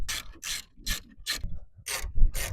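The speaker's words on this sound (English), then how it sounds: "Tighten up the screws." A ratcheting tool clicks in six quick bursts while screws are tightened on a 2004 Ford Taurus windshield wiper motor, crisp and close with short pauses between strokes and no talk.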